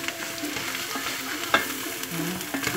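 Eru leaves being stirred in a frying pan make a steady sizzle and soft frying crackle, with the occasional scrape of the utensil, close and with no talk.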